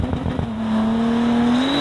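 A Bentley Continental GT Speed with a W12 engine launches from a standstill, its revs holding a steady, loud droning pitch that rises slightly near the end, heard close with no speech.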